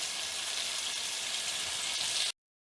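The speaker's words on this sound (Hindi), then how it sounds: "थोड़ा थोड़ा पानी डाल के इसकी भुनाई करती हूँ" Chicken with potatoes and peas sautés in a handi pot as water is added bit by bit, giving a steady, even sizzling hiss that cuts off abruptly near the end.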